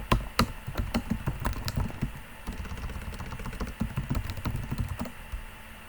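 Someone types on a computer keyboard at a command line, close uneven bursts of clicking keystrokes with brief pauses and an occasional harder tap, with no voices.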